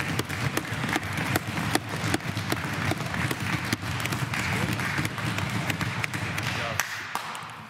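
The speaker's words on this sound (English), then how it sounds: "That deserves an applause." Members of the Legislative Assembly of Alberta applaud during a budget address, giving steady, sustained clapping with sharp individual claps and desk taps throughout, while a voice speaks over parts of it.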